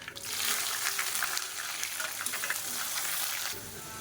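Small shallots and a chopped onion sautéing in oil with spices for a Tamil fish curry, a bright continuous sizzle with crackling spits and a brief stir, close and unvoiced.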